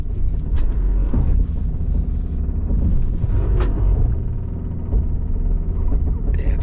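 A 2026 Subaru Forester with the 2.5 petrol engine at full throttle trying to climb a snowy, dirt hill, a loud, steady low rumble and drone with a few sharp clicks over it.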